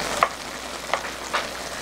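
Bulgogi beef sizzles in a frying pan while carrots are tossed in, giving a steady crackle with three soft, brief scrapes or drops spaced through the short stretch; no one talks.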